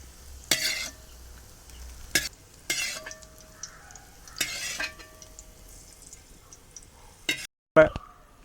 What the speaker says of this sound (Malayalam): അപ്പോൾ മുന്തിരെല്ലാം ഫ്രൈ ആയിട്ട് വന്നിട്ടുണ്ട് ക്യാരറ്റ് ഫ്രൈ ആയിട്ടുണ്ട്